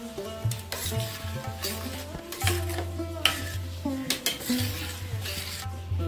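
Utensils stirring and mixing shrimp and chickpea dal ingredients with mustard oil in a metal pot, repeated scraping and clanking strokes, close and fairly quiet, with light sizzling underneath.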